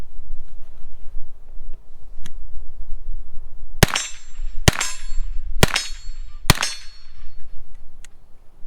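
Four shots from a 9mm Bilson Arms forward-charging pistol striking steel targets, each crack followed by a ringing metallic ding, spaced about a second apart over quiet outdoor background.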